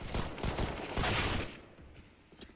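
A short burst of gunfire during a Counter-Strike: Global Offensive tournament match, several close, loud shots within the first second and a half, then quickly falling away to a faint background.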